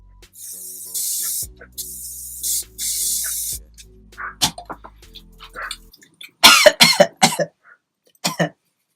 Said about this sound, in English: just spray the entire head top.